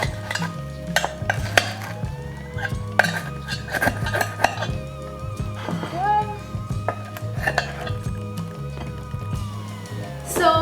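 A metal knife scraping and clinking against a baking tin while lifting out small-batch Yorkshire puddings, with repeated close scrapes and taps alongside kitchen clatter, and a voice talking over parts of it.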